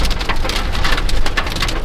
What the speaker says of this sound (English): I don't need that much rain